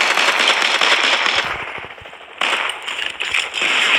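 Video game pistol fire sounds as sharp, rapid cracking shots in quick bursts, loud and close, with a brief lull midway before more shots resume.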